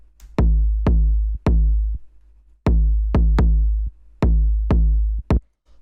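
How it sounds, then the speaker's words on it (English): Big, fat 808-style kick drum for a dark electro track thumps in a steady, slightly syncopated pattern, each hit booming low with a long decaying tail, loud and alone with no talk. "In this case, it's all about getting this big, fat 808 style kick."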